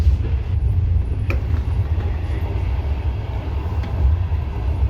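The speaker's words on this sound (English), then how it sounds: "This is our train." Passenger train running from Kharkiv to Kiev, a steady low rumble of the carriage rolling on rails with faint rattles and clicks, heard from inside, continuous throughout.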